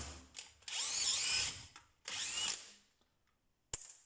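A DeWalt DCD996N cordless drill drives a size-six wood screw in two loud, close bursts of whining motor, the second shorter, with quiet gaps and a sharp click near the end.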